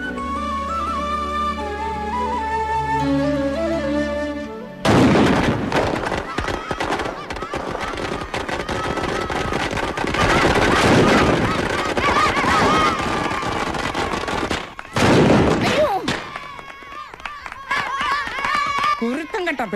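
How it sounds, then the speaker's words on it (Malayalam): Children setting off firecrackers near a temple: a long run of rapid, loud crackling bursts that overlap into a dense chatter of pops, with voices mixed in. "കുരുത്തം കേട്ട പിള്ളേര് കുണ്ടിപ്പുറയിലിട്ടാന്നോടാ പടക്കം പൊട്ടിക്കുന്നേ"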